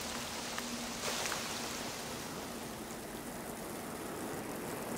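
Steady, dense rain pours down in an unbroken hiss over the planet's first rainfall on hot ancient Earth, with no voices and a constant, even level throughout.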